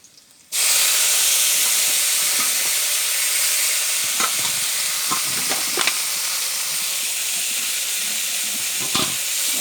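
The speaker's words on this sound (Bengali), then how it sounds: "এই যে রসুনটা ভাজা হয়ে গেছে এই যে ভাজা ভাজা হয়ে গেছে এবার এইটা দিয়ে দেব শাকটা" Bitter greens dropped into a pan of frying garlic set off a sudden loud hiss that settles into a steady, close sizzle for about nine seconds, with occasional stirring scrapes and taps and no talking.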